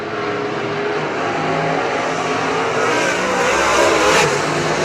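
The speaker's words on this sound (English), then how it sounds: "Baker tries to get a nose back to the outside of Brian Ruhlman for the race lead" Race cars racing in heats at Oakshade raceway, a loud continuous roar of several engines revving and passing, swelling toward the end of the clip, with no voices.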